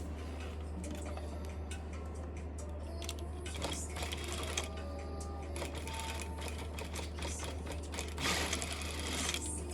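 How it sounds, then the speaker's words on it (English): A sewing machine stitching a seam on a seat-bench cushion, its steady mechanical whir and rapid needle ticking running close and continuous, with a louder burst near the end. "I'm gonna sew it together right in the middle."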